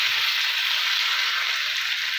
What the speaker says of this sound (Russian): Сейчас я буду их обжаривать